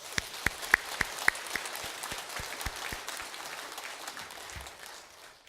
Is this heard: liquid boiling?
no